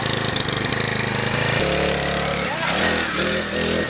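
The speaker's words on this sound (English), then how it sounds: "Dang old 49cc four-stroke engine." A small 49cc four-stroke engine fitted to a motorized cooler runs loud and close with a rough, throbbing idle that shifts pitch midway, while a voice talks over it.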